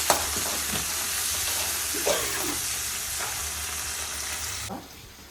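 Tomatoes frying and sizzling in a pan for star fruit rasam, a steady close hiss with a few soft stirring scrapes, cutting off sharply near the end.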